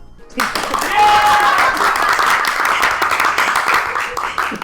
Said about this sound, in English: Try to get the audience to clap.